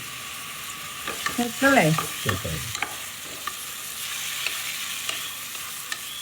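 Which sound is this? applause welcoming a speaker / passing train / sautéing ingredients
sautéing ingredients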